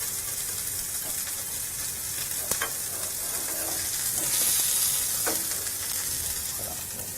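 Duckling cooking in a frying pan, a steady loud sizzle with occasional soft stirring clicks and pops throughout.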